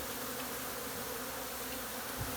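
Bees swarm inside a hive built into a house ceiling, making a dense, constant buzzing hum that fills the space close by, even and unbroken throughout.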